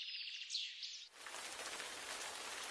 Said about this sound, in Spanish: En primavera llueve.